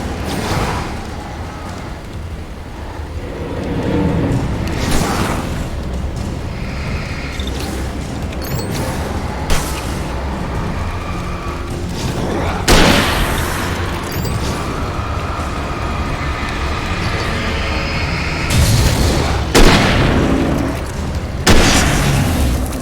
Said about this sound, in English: We're gonna get the hunting rifle out.